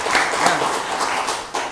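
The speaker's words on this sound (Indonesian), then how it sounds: "Oke, tepuk tangan dulu." An audience claps at an Indonesian event celebrating a first gold medal, a steady patter of applause from many hands that is moderately loud throughout.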